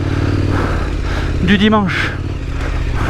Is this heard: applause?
no